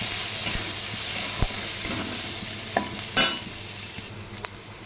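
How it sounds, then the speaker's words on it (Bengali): Oil sizzles steadily as onions fry in a pan toward brown, while a utensil clinks and scrapes now and then, stirring up close. "পেঁয়াজটাকে ভালো করে ভেজে নিই যতক্ষণ ব্রাউন কালার হবে এবং ভাজতে থাকবে"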